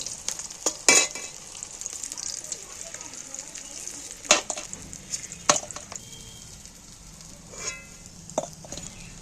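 Fish fries in oil with a soft crackling sizzle, broken by several sharp clatters of a utensil against the pan, with no voices.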